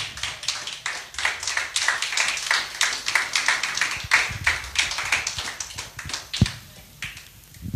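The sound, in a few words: congregation applauding for Jesus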